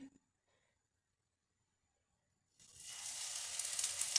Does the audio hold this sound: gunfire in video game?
no